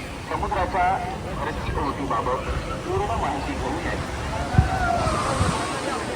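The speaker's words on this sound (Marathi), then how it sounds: "गणपतीपुळे समुद्रकिनारा." Surf washes onto Ganpatipule beach during the Ganesh Jayanti fair, a steady roar of waves and wind under a busy crowd murmur, with people talking nearby.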